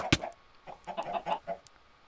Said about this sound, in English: Oh, look, more chickens.